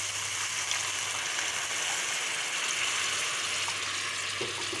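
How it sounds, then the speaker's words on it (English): Tamarind liquid is poured into a cooking pot of mashed tomato for black chickpea masala, a continuous steady gushing pour with a faint sizzle underneath, close and moderately loud. "And now I will add in this tamarind."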